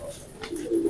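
Racing pigeons in a loft give a short, close coo that swells toward the end, with no talking.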